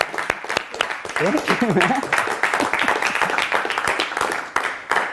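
Audience clapping after a hypnosis show, moderately loud and uneven, while someone speaks over it and the applause continues beneath the talk.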